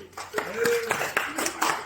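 A classroom audience clapping for a student's question in an agricultural extension lecture, several sharp, uneven claps mixed with people talking.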